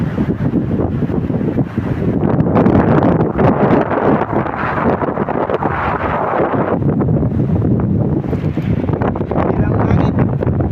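Strong coastal wind buffets the microphone in steady broadband roar, with sea surge beneath, loud and continuous throughout.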